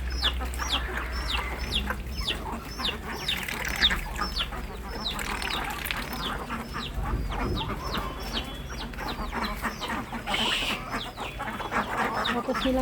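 A flock of ducks and ducklings peep and chirp rapidly while feeding, many small repeated calls close by over a steady low hum, with a person speaking briefly.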